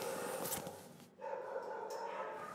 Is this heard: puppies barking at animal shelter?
yes